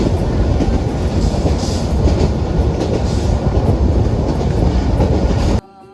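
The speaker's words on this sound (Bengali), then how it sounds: "কমলাপুর রেল স্টেশন থেকে আমাদের ট্রেন এখন ছুটছে সরাসরি কক্সবাজারের উদ্দেশ্যে" A passenger train runs on rails from Kamalapur toward Cox's Bazar. It gives a loud, steady rumble with rattling wheels heard from on board and no voices, then drops off sharply at the very end.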